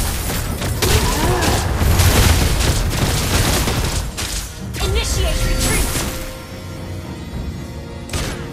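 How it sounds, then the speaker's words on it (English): Loud, dense game combat with booming, crashing impacts and whooshes as a turret is destroyed in a video game, a continuous barrage that thins out toward the end, with voices calling out over it. "Our turret has been destroyed."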